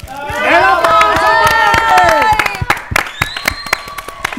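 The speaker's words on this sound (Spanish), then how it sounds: "¡El aplauso!" A mother's day celebration audience breaks into applause and cheering on a count of three, dense clapping mixed with excited voices and laughter that fades after a few seconds into scattered claps and chatter.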